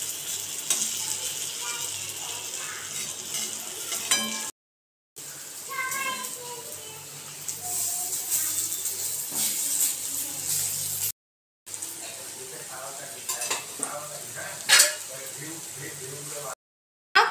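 Dough pieces puff up as they fry in oil in a pan, giving a steady bubbling sizzle with brief breaks, while a voice talks over the cooking.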